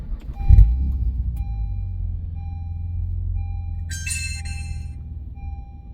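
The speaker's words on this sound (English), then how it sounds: "That god awful like welcome chime" A Cobra Dash 2216D dashcam plays its start-up welcome chime inside a car, a bright tinkling melodic jingle of a second or so arriving after an engine-start thump, over the steady low hum of the idling vehicle.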